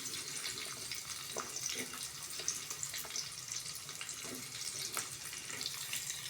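Onion hitting a hot pan crackles and sizzles with a steady hissing fry, fairly soft, alongside green chilies and ginger in a home kitchen.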